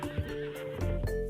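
A horse gallops in a video game, with rhythmic clip-clop hoofbeats and a whinny standing out clearly over a steady background tone.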